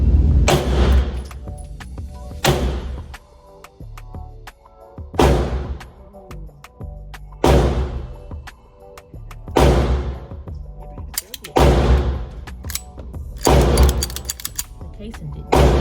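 A 1911 pistol fires six loud, sharp shots at irregular intervals a second or two apart on an outdoor range, each report decaying in a short echo, with low rumble and faint handling noise between shots.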